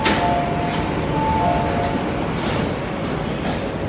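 An MTR train at Kwun Tong Station rolls through with a steady, loud rumble, thin metallic wheel squeals rising and fading over the constant roar of the platform.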